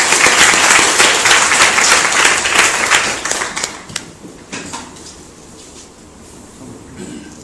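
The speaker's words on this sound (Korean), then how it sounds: "박수로 환영해 주시기 바랍니다" Applause from an audience at a university admissions information session greets a graduate. It starts as dense, loud clapping and then thins out and fades to a quiet room after about four seconds.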